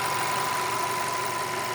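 A 2019 VW Passat 2.0 TSI 272 hp with 4x4 runs at a smooth, even idle, a steady close hum with a constant tone and no rev changes or voices.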